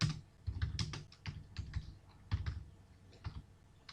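Steady typing on a computer keyboard while entering React code, a quick run of close, crisp key clacks in uneven bursts, with no talking over it.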